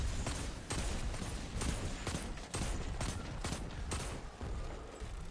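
Hand cannon shots in Destiny 2 combat against ogres, sharp repeated reports in fairly regular succession over dense, loud game noise.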